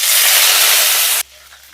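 Curry leaves hitting hot oil with mustard seeds in a Tamil home kitchen, a loud, steady, close frying hiss that cuts off abruptly, leaving quiet room sound.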